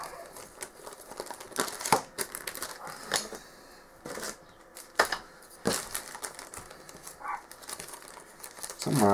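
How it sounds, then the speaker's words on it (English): Printed texture stamps for dungeon floor tiles are dropped into a plastic bag, giving scattered crinkles and sharp rustling bursts at close range, with no talk. "So put them in the bag."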